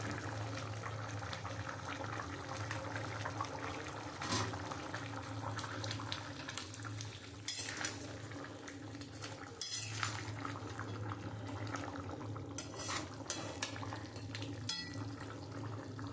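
Fried spice mix goes into a pot of chicken curry, with soft scraping and clinks of a metal spoon against the cookware, plus light kitchen clatter throughout, fairly quiet and close.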